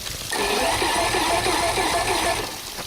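The engine of a 1996 Ranger Cherokee 238 boat turns over, a loud, close, steady mechanical churning that begins after a brief pause and holds evenly for a couple of seconds before easing off.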